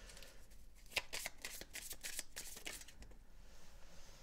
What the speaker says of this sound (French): Donc je vais tirer des cartes pour clarifier tout ça.